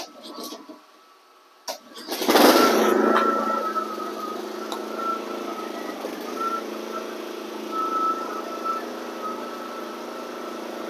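A flood-damaged lawn mower engine fires up after a short crank and settles into a steady, close, continuous idle hum that runs on without a break.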